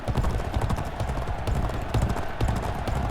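Racehorse hooves gallop hard on a firm track surface in the video game G1 Jockey 4, a loud, fast, continuous drumming of clip-clop beats with no break.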